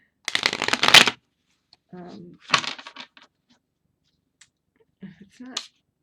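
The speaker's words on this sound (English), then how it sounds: "I'm not getting a very good riffle shuffle out of it" A stiff cardstock tarot deck is riffle shuffled in a dense rattling burst, followed by softer bridging and tapping, another short riffle, and light card handling at the end, all close up.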